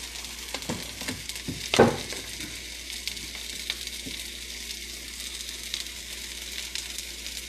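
Mushrooms frying in coconut oil for wild mushroom tacos give a steady, fairly faint sizzle, with a brief louder burst of crackling near the start as they hit the pan.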